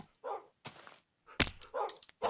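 Several short dog barks and yips from a pack of Minecraft dogs in quick bursts, close and fairly loud, with brief gaps and a thunk between them.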